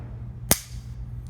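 A single sharp, dry click from the trigger of a WWII Japanese Nambu Type 14 pistol, close and brief, over a quiet low room hum.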